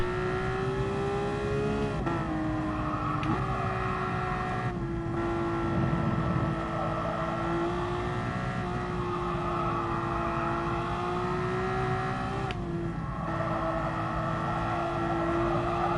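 A Porsche endurance race car engine roars in Gran Turismo Sport, holding steady high-revving tones with a few brief gear-shift dips, loud and continuous throughout with no talk.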